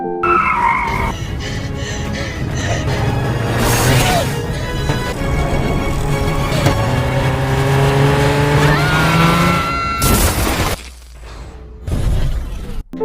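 A car speeds hard through a horror film scene, tires skidding and squealing over a loud, continuous engine roar, with a sharp crash-like burst and a sudden drop in sound near the end.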